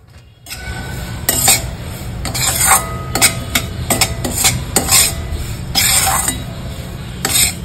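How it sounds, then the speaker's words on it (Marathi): Semolina is stirred and roasted in a pan over low heat, a spoon scraping and rasping against the metal in irregular strokes with occasional clinks, close and steady, no talk. "आणि आता मिक्स करायचं आणि चांगलं भाजून घ्यायचं"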